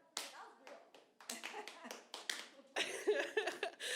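Sparse clapping from a small comedy club audience, scattered bursts of a few hands close by, mixed with some voices.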